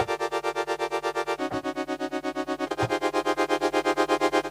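Init patch on the Output Signal software synth: a sustained, buzzy pad with a rhythmic pulsing throb, shifting in pitch twice, steady and moderately loud with no voice over it.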